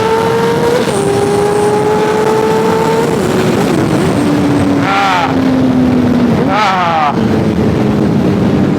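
A high-pitched Honda CBR600RR motorcycle engine with an aftermarket exhaust and no catalytic converter winds up and holds steady, then several sharp revving bursts rise and fall near the end, loud and close.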